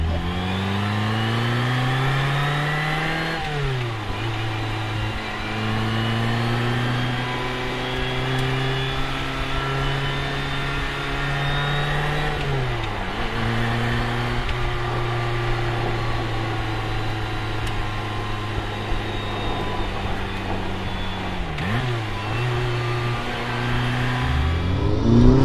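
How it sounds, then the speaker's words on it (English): A 1989 Ferrari Mondial T's V8 engine pulls hard through the gears, its rising snarl climbing in pitch, dropping at each shift, then climbing again, three times in close succession with no talking. "It has enough of the, you know, beautiful V8 engine sound coming through"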